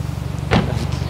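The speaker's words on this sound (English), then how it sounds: "I want to close the door so it doesn't go in." A BMW F chassis car door shuts with a single short thud midway, heard outdoors over a steady low engine-like rumble.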